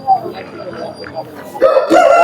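A rooster crows loudly and close at a rooster market where good breeds are sold, a rising call near the end, after a stretch where a person talks over faint background noise.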